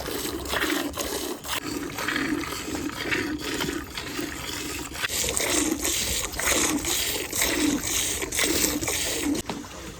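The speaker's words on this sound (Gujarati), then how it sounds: "ચાંદનીએ પી લીધું હવે ને આપણો વારો છે દોવાનો" An animal is milked by hand in a Botad village, and a steady run of rhythmic streaming squirts sounds close and continuous, with no talking.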